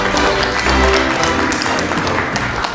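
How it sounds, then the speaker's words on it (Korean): An audience breaks into loud, dense applause at a talk, a continuous close wash of clapping with a faint voice murmuring underneath. "이럴 때는 박수도 쳐 괜찮아요."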